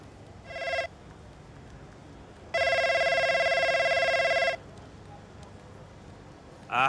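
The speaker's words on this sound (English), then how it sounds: "Devon, I'm ringing to chat further about Connorsport" A telephone ringtone in the racing game F1 25 trills in two bursts, a short ring followed by a longer two-second ring, clear and electronic over a quiet background.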